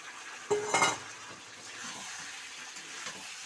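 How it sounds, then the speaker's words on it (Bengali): Fried soybeans being stirred in a pan with fried potatoes and pointed gourd, a short clatter of a utensil scraping the pan followed by a soft, steady sizzle. "ভালো করে একটু নেড়ে চেড়ে দিচ্ছি"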